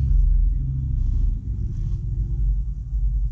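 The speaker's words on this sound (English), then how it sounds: "You can hear the neighbors driving with their bass." Neighbors' car driving by outside a garage with loud bass music, a steady heavy low-end rumble and thump that holds throughout, with faint talk over it.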